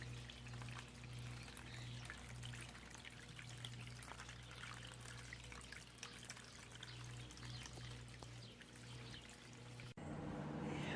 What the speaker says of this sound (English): I love sitting here listening to the water